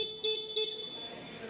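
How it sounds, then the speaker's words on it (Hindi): Two short, high-pitched beeps from a Hero Xoom 110 scooter horn, close by, followed by a lingering electronic tone. "इसके बाद टर्न इंडिकेटर्स, और ये हॉर्न स्विच।"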